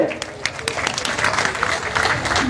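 Crowd clapping at a workers' rally at Shahbag, a loud, uneven burst of hands with some crowd noise mixed in, building slightly toward the end.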